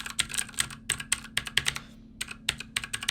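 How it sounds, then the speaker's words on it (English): Typing on an AUKEY KM-G7 mechanical keyboard, with clusters of crisp, close key clicks in uneven bursts and a short pause in the middle, no talk. "it was kind of interesting to see how exactly it is to type on a keyboard like this"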